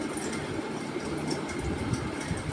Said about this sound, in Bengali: তারপরে তো চলে এলো স্পেশাল ট্রেন দুটো লেডিস আছে পরপর